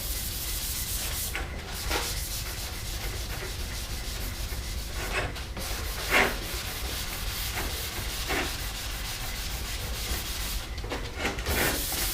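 Worn sandpaper rubs steadily to remove marks from a part for a DIY hydroponic garden tower, a continuous close scratchy sanding with brief strokes and pauses, no talking.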